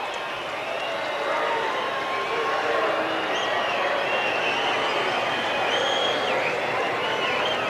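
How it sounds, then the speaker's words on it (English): Tennis stadium crowd at Indian Wells during a Becker–Agassi match reacting loudly to a disputed line call, a sustained roar of voices and murmuring with scattered whistles, a commentator speaking over it. "the crowd seemed to agree vehemently with Becker"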